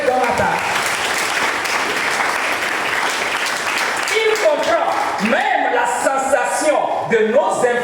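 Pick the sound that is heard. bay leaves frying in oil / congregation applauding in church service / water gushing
congregation applauding in church service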